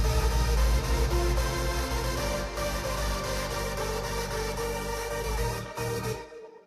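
Self-made hardstyle lead layered with kick and clap, produced in FL Studio, playing as a dense, loud full mix with steady rhythmic hits throughout and no voices.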